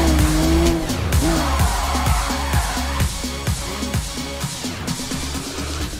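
A car in Need for Speed Rivals drives hard with loud, steady engine roar, changing revs and tyre squeal, close and continuous with no talk.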